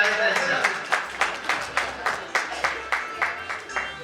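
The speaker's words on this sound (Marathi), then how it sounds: "सो पुन्हा एकदा या सगळ्या शिक्षकांसाठी जोरदार टाळ्यांचा कडकडाट आपण करूया" Steady rhythmic applause from a crowd honouring teachers at a Balak Vihar reunion, roughly a dozen regular, evenly spaced claps over about four seconds, close and fairly loud, with no other sound on top.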